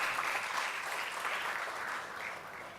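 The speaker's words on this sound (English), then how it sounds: "I think they deserve a big round of applause." An audience at an education conference claps in a steady, sustained round of applause that holds at a fairly even level and tapers slightly toward the end.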